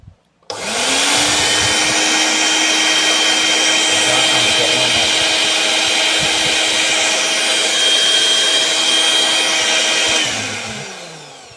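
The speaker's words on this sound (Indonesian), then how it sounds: "Jadi kalau kita nyalakan blender," Kitchen blender switched on and running steadily for about ten seconds, a loud whining motor hum with a sharp start and a winding-down finish.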